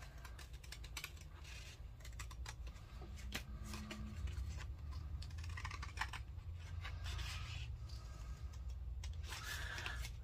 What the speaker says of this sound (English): we're just going to cut these off at that line